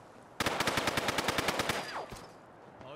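Rapid automatic gunfire from the video game Fallout London rattles off a burst of about a dozen sharp, evenly spaced shots, loud and close, followed by a brief whoosh and quieter game sounds.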